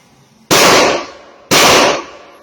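Two loud rifle shots from a 7.62x35 Blackout at an outdoor shooting range, each a sharp crack with a decaying tail, about one second apart, close to the microphone.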